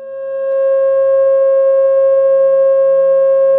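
A steady pure sine tone at 540 Hz, pitched as the pentagon tone in a sacred-geometry series, sounds loud and unbroken throughout with a faint low hum beneath it and no voices.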